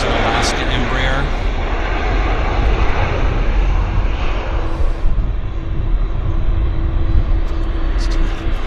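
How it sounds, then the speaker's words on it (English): An Alaska Airlines Embraer jet at Vancouver airport, engine roar steady and loud as it approaches, with a talking voice heard over it. "There's an Alaska Embraer."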